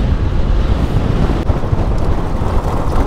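Cold, strong wind gusting across the open shore of high-altitude Lake Karakul, buffeting the microphone with a loud, steady low roar that stays constant throughout, with no voices.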